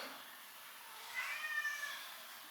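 A house cat meows in a short, faint burst at mid-distance in the middle of an otherwise quiet room, with no other sound around it.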